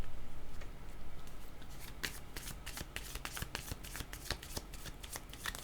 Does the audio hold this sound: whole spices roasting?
no